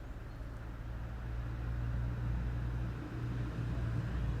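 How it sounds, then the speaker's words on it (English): Steady low road rumble of several cars passing near a garden at almost sunset, swelling slightly partway through, with no voices. "as you can hear, there's suddenly a lot of cars passing by"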